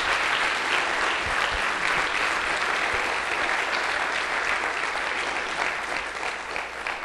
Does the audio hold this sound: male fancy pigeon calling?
no